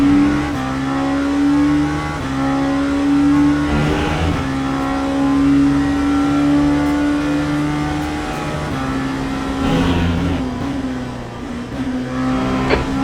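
A race car engine at Silverstone holds a loud, steady high-revving drone from the cockpit during multiclass racing, with brief shifts and dips in pitch as it closes on a slower car.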